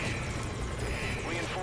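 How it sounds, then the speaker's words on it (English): A helicopter hovering in the air in the video game Metal Gear Solid V: Ground Zeroes, a steady, continuous whirring rotor drone that lasts the whole moment, with a voice over it. "I'll have the chopper wait in the air."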